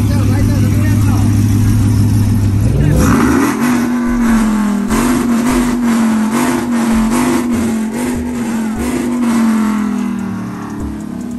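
Lifted truck at a Beaumont truck meet revs hard, its engine note climbing and holding high with rapid roaring bursts, while a crowd shouts over it.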